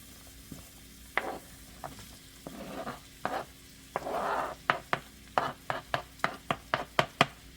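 Chopped onion goes into a sizzling pan for Jamaican callaloo, with scattered stirring scrapes and a brief sizzle burst, then a run of quick sharp knocks against the pan.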